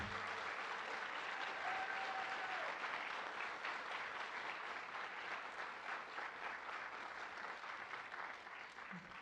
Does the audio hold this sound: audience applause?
yes